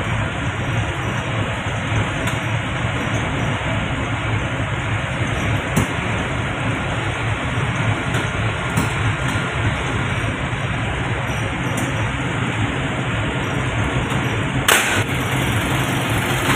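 Two MAN B&W diesel generators run together in a steady, loud, dense drone with a constant mechanical hum and a few sharp clicks on top, heard close and without speech.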